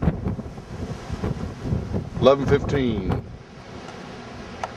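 Hurricane Ike wind buffets the microphone in a steady low roar that swells and fades over a few seconds, with a person speaking briefly over it.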